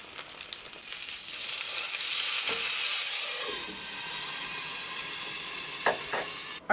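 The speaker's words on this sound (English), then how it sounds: "we're adding the meat in raw. It's going to cook in the pan. We're going to fry it and steam it" Raw meat for pot stickers hisses loudly in a pan, a steady dense sizzle that swells and holds, with a few metallic clinks and shifts partway through and near the end.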